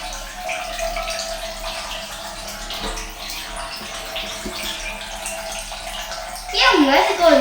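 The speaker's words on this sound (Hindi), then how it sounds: "देखो पूरा पानी को धक्का दे रहा है" A DIY electric boat's propeller churns the water, giving a steady close-up swish and bubbling that grows louder and splashier toward the end, while someone talks over it.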